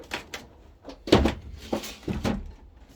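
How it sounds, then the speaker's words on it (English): A door is propped open with a toolbox: a series of knocks, thuds and scraping bumps at close range, with a heavy thunk in the middle and no talk. "I propped the door open"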